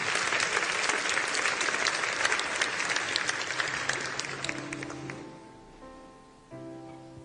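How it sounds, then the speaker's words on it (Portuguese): A church congregation at Mass applauds together, a dense loud wash of clapping that tapers off over several seconds, leaving a quieter room with a soft sustained tone underneath. "Vamos aplaudir a palavra de Deus."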